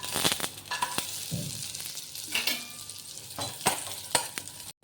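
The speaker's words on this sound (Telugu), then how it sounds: "ముందుగా నెయ్యి వేసుకుని డ్రై ఫ్రూట్స్ ఫ్రై చేసుకోవాలి" Dry fruits frying in ghee for a quick sweet, loud repeated stirring scrapes and taps of a spoon against the pan over a background sizzle, ending abruptly.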